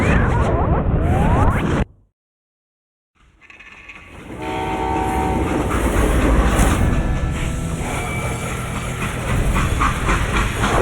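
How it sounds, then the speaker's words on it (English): A steam train runs in a Western video game, loud and close, with rolling wheel clatter and hissing steam. The noise cuts out briefly, then builds back into a steady rumble. "Now, how'd they stop this train in the first place?"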